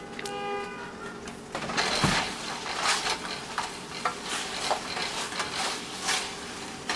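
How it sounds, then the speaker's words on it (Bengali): Chicken wings sizzle loudly in butter in a hot pan while being stirred to coat, a steady crackling fry with scraping utensil sounds and a sharp clatter near the start, no voices. "চিকেন উইংসগুলোকে দিয়ে তাড়াতাড়ি নেড়ে এটার সাথে কোট করে নেব"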